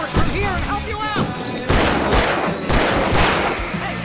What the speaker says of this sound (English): I can stop throwing fireworks from here and help you out!